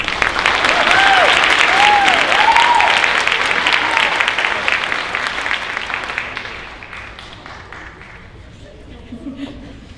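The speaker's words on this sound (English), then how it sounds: "Let's give them all a round of applause." An audience at a high school senior honors night claps in a dense, steady round of applause that swells, holds for several seconds, then fades away, with faint voices and a brief chuckle beneath.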